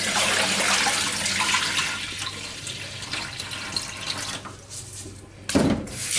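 Cold tap water runs steadily into a sink as rice is rinsed, a continuous splashing rush that briefly eases before a short louder gush near the end.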